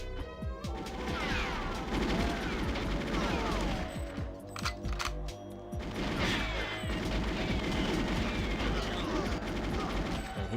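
Rapid bursts of gunfire from enemy soldiers with silver PP7 pistols in the N64 shooter GoldenEye 64, played on 00 Agent difficulty, crackling dense and loud across the whole stretch, with a few brief lulls between volleys.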